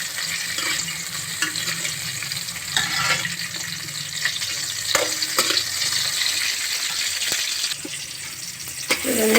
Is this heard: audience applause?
no